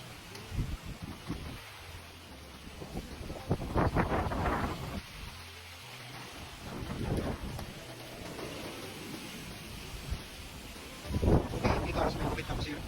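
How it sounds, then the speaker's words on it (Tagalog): Strong wind gusts roar with the rain in rough, rising and falling surges, heavy buffeting on the microphone, while a person talks over it at moments. "Ang lakas ng hangin."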